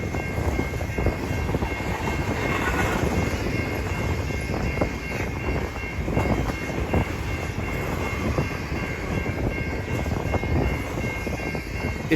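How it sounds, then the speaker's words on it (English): CN ES44 diesel locomotives haul a long, heavy freight train near a large Wisconsin rail yard, a continuous loud rumble and engine drone with a steady high whine above it, unbroken and without voices. "It's just amazing that these CN ES44s are pulling this long, massive freight train."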